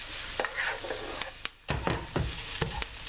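Onions and bell pepper fry in a pan with a steady, close sizzle, broken by several sharp scraping stirs and clacks of a utensil against the pan; one brief lull near the middle.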